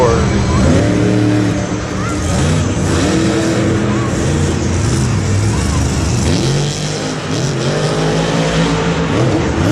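Monster truck Overboard at Monster Jam in MetLife Stadium, engine revving in a muddy arena, loud rising and falling roars that sweep in pitch, with an announcer talking over it throughout.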